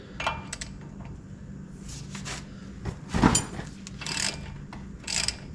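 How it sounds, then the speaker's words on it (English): A ratchet loosens the tie rod end nut on a lowered Chevy Silverado, giving short bursts of mechanical clicking spread through a quiet garage, with one louder clattering burst midway; no one speaks. "Now we have to take the tie rod end loose."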